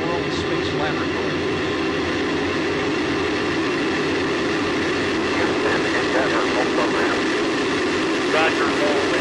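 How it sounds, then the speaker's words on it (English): Space Shuttle Endeavour's solid rocket boosters ignite for liftoff on the STS-127 launch, a dense, unbroken roaring rumble that fills the whole stretch at high loudness, with a voice faintly present beneath it. "Booster ignition and liftoff of Endeavour"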